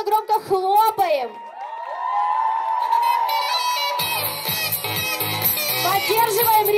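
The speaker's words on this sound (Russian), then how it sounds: "Мы им громко-громко-громко хлопаем" Young audience at a KVN team presentation for the 6th squad's team, loudly cheering and whooping after a sustained voice-like tone; the crowd noise swells and stays dense and energetic to the end.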